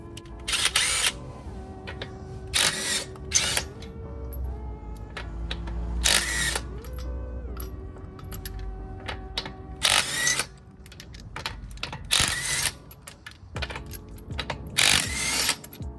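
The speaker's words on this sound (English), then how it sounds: "I'm going to go ahead and get my impact and my 21mm socket. I'm going to take the lug nuts off." An impact wrench with a 21mm socket takes the lug nuts off a Scion tC wheel. Several loud, harsh bursts of rattling hammering, each about a second long, are broken by pauses filled with ratcheting, clicks and handling noise.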